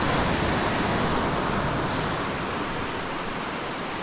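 Strong wind rushes over the microphone at a shoreline while surf breaks steadily, a loud, dense, continuous roar with no pauses, heard alone without any talking.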